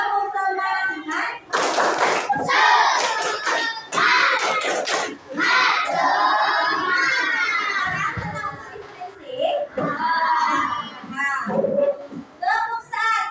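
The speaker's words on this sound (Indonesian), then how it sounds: "Tepuk semangat." Children in a classroom clap together in a counted rhythm during a teacher's training lesson, bursts of hand claps mixed with loud kids' voices and chatter throughout.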